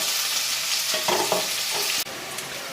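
Red and green bell peppers fry in a hot pan for masala idli, a loud, steady close sizzle with a few stirring clatters partway through.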